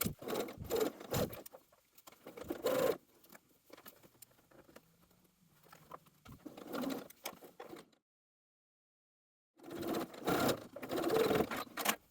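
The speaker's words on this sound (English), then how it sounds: "Then stitch the remaining back edges of the dress, connecting to the previous stitching." Sewing machine stitching the back edges of a dress runs in quick rattling bursts, starting and stopping several times with short pauses between runs, close and clear with a silent gap before a final burst.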